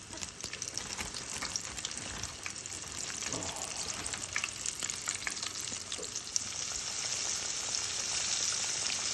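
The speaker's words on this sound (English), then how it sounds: "Frying her up." Breaded eelpout fish pieces fry in hot oil, a continuous crackling sizzle with bursts of popping, close and steady, growing slightly fuller toward the end.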